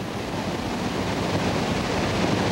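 Water rushes steadily through an eroding breach in the 1986 Auburn cofferdam, a continuous broadband roar like heavy surf that holds loud and unbroken throughout.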